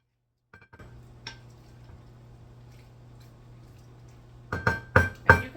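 Potato salad stirred in a bowl: a low steady hum underneath, then several sharp clinks and scrapes of a utensil against the bowl near the end, close and fairly loud.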